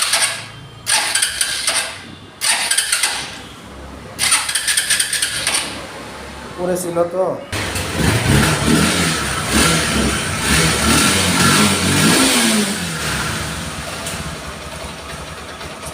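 A Runner 80cc motorcycle from 2022, its headlight broken, stutters through several short mechanical bursts, then catches and settles into a steady, loud idle with light revving nearby, while someone speaks briefly.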